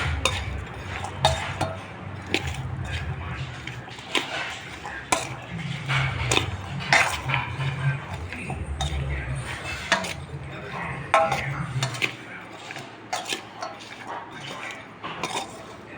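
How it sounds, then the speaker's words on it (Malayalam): Salted raw mango pickle stirred with a spoon in a dish, producing repeated clinks and scrapes of metal against the container at an uneven rhythm, close and fairly loud. "ഒരു രണ്ടര സ്പൂൺ ഉപ്പ് ചേർക്കണം എന്നിട്ട് നമ്മളൊന്ന് ഇളക്കി കൊടുക്കുക"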